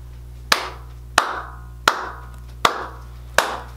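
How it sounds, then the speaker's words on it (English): Five slow, deliberate hand claps ring out one by one at regular intervals, close and loud with a short echo trailing each, over a low steady hum. "I gotta give this nigga a round of applause"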